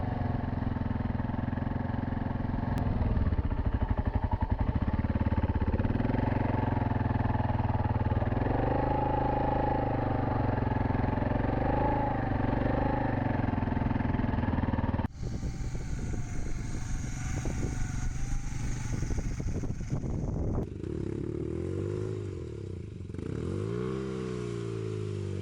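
A Husky motorcycle rides over sand dunes in Mongolia, its engine droning loud and steady, then shifting in pitch and revving with throttle changes, with clattering mechanical noise throughout.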